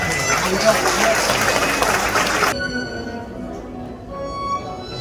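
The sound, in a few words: wedding guests applauding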